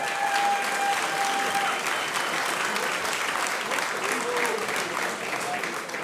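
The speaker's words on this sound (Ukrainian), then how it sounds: "Оплески бійцям." A crowd applauds fighters after a technical-knockout win at a combat-sports event, steady loud clapping filling the whole stretch without pause.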